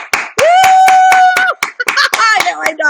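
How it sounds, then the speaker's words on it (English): A small group claps in a bright burst of sharp, quick hand claps close by, with a voice and other voices calling out over it. "We're all clapping because you showed up."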